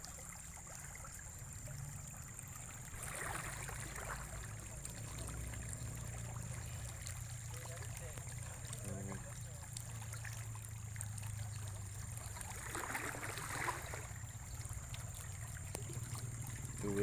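Water in the Musi River flows steadily, a soft, continuous trickling and rushing under a faint background hum. Two brief louder splashes stand out, and no one speaks.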